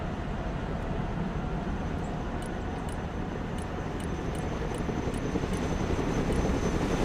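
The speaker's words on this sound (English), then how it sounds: "Helicopters are impressive machines. Boy, are they noisy." A loud, steady video game helicopter drone with heavy rotor rumble fills the whole clip, with faint regular high ticks above it; no talking.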